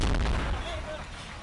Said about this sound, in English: Multiple explosions.